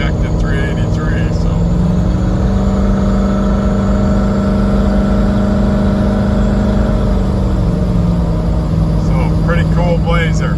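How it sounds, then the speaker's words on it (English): A 1986 Chevrolet Blazer with a fuel-injected 383 engine pulls away under acceleration, its loud, steady drone rising slightly in pitch and continuing without a break, heard from close by. "Takeoff with a fuel injected 383"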